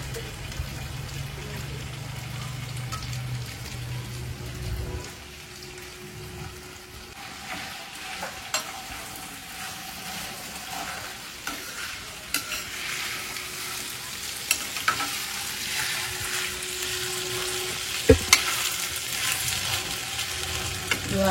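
Dried anchovies fry and are stirred in a pan for a Tamil karuvattu kuzhambu, producing a continuous close sizzle with scraping stirs and occasional sharp clicks of the utensil.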